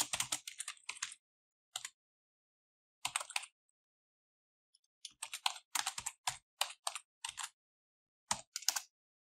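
Close, quiet typing on a computer keyboard while entering JavaScript code, coming in quick bursts of keystrokes with short silent gaps between them.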